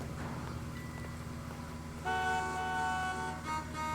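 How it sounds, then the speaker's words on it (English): In the video game L.A. Noire, car horns on a street blast steadily for a couple of seconds over a constant low engine drone, with a short gap before they resume. "They're honking at me for trying to get in the car?"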